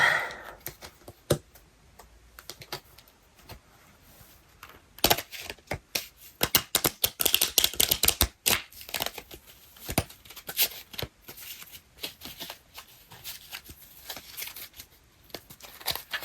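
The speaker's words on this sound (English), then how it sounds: "we just give this a good shuffle so I don't keep getting the same cards" Tarot cards being shuffled in a flurry of dense, rapid riffling clicks and flicks, close and fairly loud in bursts, with quieter pauses between shuffles and no talking.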